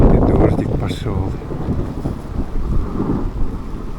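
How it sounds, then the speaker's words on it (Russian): Rain beginning on a mountain route near a saddle below a 3129 m peak, heard as a rushing, wind-buffeted patter with rumbling gusts against the microphone, steady and close throughout. "А вот и дождик пошел."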